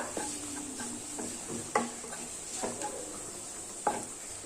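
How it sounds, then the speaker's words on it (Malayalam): Spice powders, including garam masala, sautéed in a pan for mixed dhal: a quiet background sizzle broken by a few sharp scrapes and knocks from stirring, spaced irregularly through the stretch. "ഇതെല്ലാം കൂടിയിട്ട് നന്നായിട്ടൊന്ന് വഴറ്റി കൊടുക്കുക."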